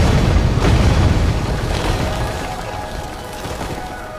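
Heavy booming explosions from bombs dropped by B-25 bombers on Tokyo, one big burst followed by a long rumbling decay fading over several seconds, with no voices.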